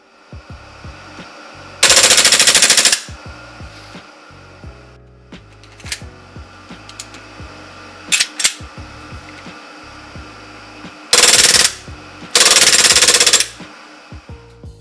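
A WE Tech G18c airsoft pistol with a custom short stroke kit fires loud full-auto bursts of about 18 rounds per second, a long burst followed later by two more, separated by mechanical clicks and handling noises.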